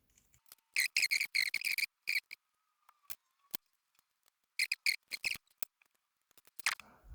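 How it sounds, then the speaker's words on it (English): Small screws being undone on a 1/27 scale rear-wheel-drive RC drift car chassis, heard as bursts of crisp, rapid clicking and ratcheting ticks in short clusters separated by silences, close up with no talking. "So we undo all these screws."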